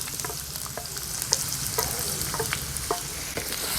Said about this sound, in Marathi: हा बारीक चिरलेला कांदा आहे ना तेलावर ॲड करणार आहोत